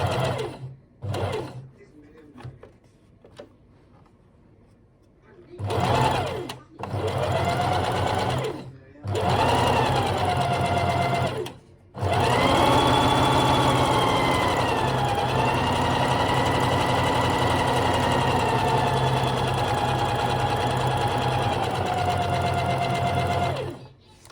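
A sewing machine stitches fabric doll legs, running in bursts that start and stop several times before one long steady run with the motor pitch rising and falling, close and loud.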